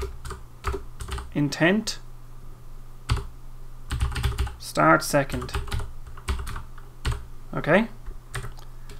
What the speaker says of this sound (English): So we're just typing that in more or less for shorthand.